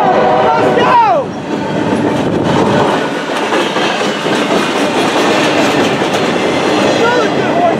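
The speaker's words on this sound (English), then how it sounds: "And here comes the train." Union Pacific 5013 leading an eastbound freight passes close by with a loud, steady roar of wheels and rail clatter, after a brief fading horn note at the start.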